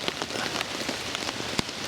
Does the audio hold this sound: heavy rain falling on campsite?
yes